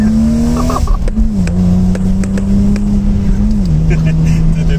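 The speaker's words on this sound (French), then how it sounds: "Le bruit de la M3 est vraiment le bruit original en fait." A BMW M3 E36 drifting, its engine holding a loud, steady high-revving drone that dips slightly as the revs shift, while voices talk over it.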